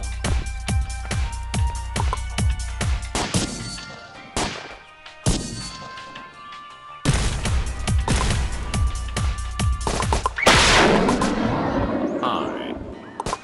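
Sniper rifle gunfire in the video game Dude Theft Wars: a quick run of sharp, loud shots with echoing tails, then heavier blasts and a rumbling crash near the end, game effects layered over a steady background.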